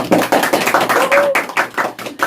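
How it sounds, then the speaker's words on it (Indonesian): Campus students applaud after a regional song performance. The clapping is loud, close and uneven, with clustered bursts and a short whistle-like tone in the middle. "Tepuk tangannya mana dong?"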